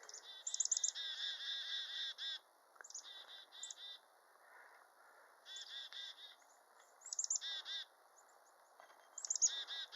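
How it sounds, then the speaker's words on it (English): A chickadee calls in a quiet wooded stream valley, making repeated bursts of thin, high whistled and buzzy notes in short phrases separated by pauses. The calls sound fairly close but faint, and no one speaks. "A chickadee saying hi."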